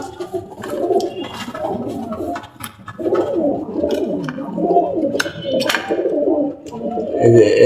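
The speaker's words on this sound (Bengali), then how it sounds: "আজকে কবুতর উঠছে।" Pigeons in a loft coo in low, rolling phrases that repeat one after another, close and fairly loud, with sharper clicks and rustles scattered through and a voice talking faintly at times.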